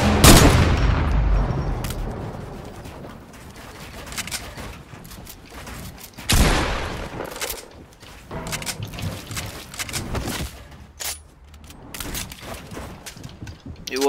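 Gunfire in a Fortnite battle royale match: a heavy opening volley, then a sharp burst midway and scattered shots and clatter, with game sounds running throughout and players talking over it.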